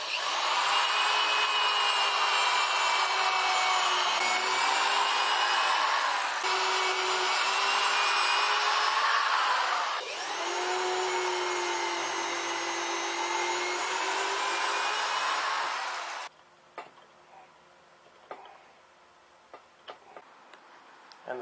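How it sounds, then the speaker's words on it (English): A power drill whines at high speed for several long bursts, drilling wood corners, briefly pausing between them, then stops, leaving quiet scattered clicks and taps. "now I'm going to drill the corners."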